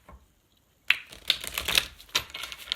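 Playing cards shuffled by hand close up: quiet rustling, then a series of crisp riffling bursts and snaps, with no talking.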